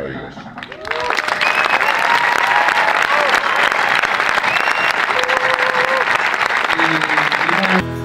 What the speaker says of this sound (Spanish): si hay un aplauso ahora, que sea para vosotros y para ellos